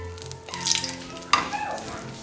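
Eggs and potatoes fry in hot oil for a spicy Bengali egg curry, giving a close, steady sizzle broken by stirring clatter and a sharp scrape partway through.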